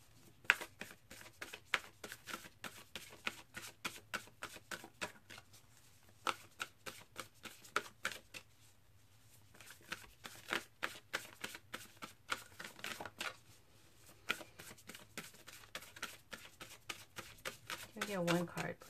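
Tarot cards shuffled by hand close up, with dense runs of rapid riffling flicks that pause and resume, while a voice talks softly underneath.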